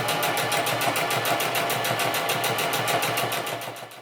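A sewing machine runs steadily while edge stitching the left fly shield of a woman's fly zipper, a fast, even rhythmic whir of needle strokes, close and loud, alone throughout and easing off at the very end.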